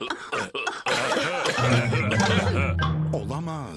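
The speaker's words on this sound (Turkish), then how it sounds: "Pedro'nun öksürüğü bütün yetişkinlere bulaştı" A cartoon pig character coughs in a Peppa Pig episode, a few short coughs followed by a chuckling, voiced sequence, with character voices speaking around it.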